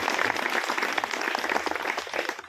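An audience at a school Independence Day celebration applauds student drama performers, giving a dense, close burst of many hands clapping steadily throughout.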